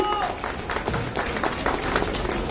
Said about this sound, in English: Can you give them a big round of applause, ladies and gentlemen?